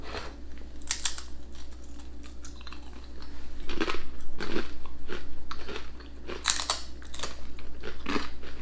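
Peter's Yard crackers topped with cheese being bitten and chewed, several sharp loud crunches spaced irregularly over a low steady hum.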